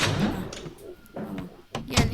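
A door opening in the mobile horror game Mr. Meat 2, a couple of short wooden creaks and thuds at moderate level against background game ambience.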